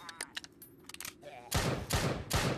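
Pistol shots ring out in the VR game Spawn of the Dead, starting with scattered light clicks and small sounds, then three loud, sharp gunshot bursts spaced evenly apart, with no voice over them.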